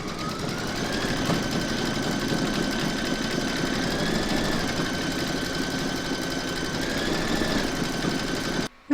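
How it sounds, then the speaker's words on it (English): An embroidery sewing machine stitches a round on a koala cuddly toy in its hoop, a loud steady mechanical whir with a pitched motor whine rising and falling, running nonstop until it cuts off at the end. "Pop your hoop into your machine and stitch round number 13, and that's going to secure your backing fabric."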